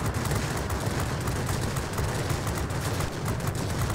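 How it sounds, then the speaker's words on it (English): Aircraft machine guns on a Do 335 in the video game World of Warplanes fire in dense, continuous bursts, a loud, rapid crackling rattle that fills the whole stretch without pause. "Letting off the guns every once in a while just to let them cool off a little bit"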